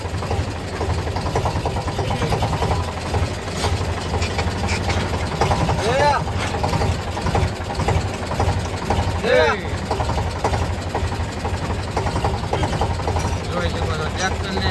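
A tractor engine runs steadily and close, a continuous low rumble with mid-range rattle throughout, while people talk over it and a couple of rising calls or animal-like cries break through.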